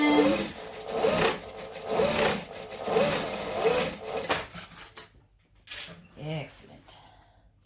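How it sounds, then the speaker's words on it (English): A sewing machine chain-stitches along fabric in short bursts of steady mechanical whirring, broken by pauses, with a person talking between the runs. "so I'm going to chain stitch, put the next one in"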